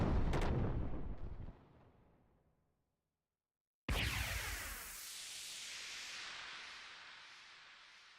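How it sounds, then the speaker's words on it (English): Gunshots in a Xenogears game scene: a sharp loud blast decaying away into silence, then a second abrupt boom with a long fading rumble. "Is that the same shot over and over again, or is that 3 separate shots?"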